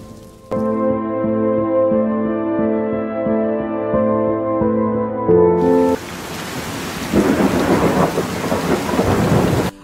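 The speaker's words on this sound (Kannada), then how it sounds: "ಈಗ ನಮ್ಮ ಊರಿನಲ್ಲಿ ಸ್ವಲ್ಪ ಸ್ವಲ್ಪ ಮಳೆ, 2 ದಿವಸ ಆಯಿತು, ಒಳ್ಳೆ ರೀತಿಯಲ್ಲಿ ಮಳೆ ಬರ್ತು ಉಂಟು ಪೆರ್ಲದಲ್ಲಿ." Rain and thunder over a village in Perla on the Karnataka–Kerala border, a steady rush of heavy rain that swells louder in the latter half, with rumbling under a sustained tonal hum at the start.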